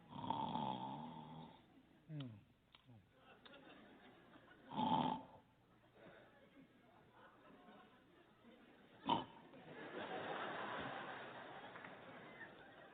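A voice imitates a wife's loud snoring, delivering several harsh, snorting inhales with pig-like grunts in bursts separated by quiet pauses, close and clear.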